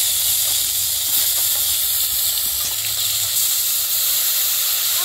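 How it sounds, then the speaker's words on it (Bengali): Onion-garlic paste and mustard-cumin paste spitting in hot oil with whole cumin seeds, a steady loud broadband hiss that carries on unbroken without pause, with no voices heard. "এখানে আছে পেঁয়াজ রসুন একসাথে বাটা আর সরষে আর জিরা একসাথে বাটা দিয়ে দিব"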